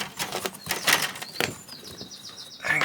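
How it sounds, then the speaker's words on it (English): A tent flap is opened: fabric rustles and flaps in quick bursts, followed by a zipper-like rasp being pulled, close and fairly quiet. "Let's open the flap"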